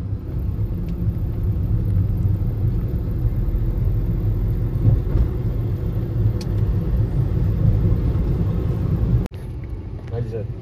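A car out on a short test drive gives a steady low cabin rumble of engine and road noise, continuous and even throughout, then drops abruptly near the end.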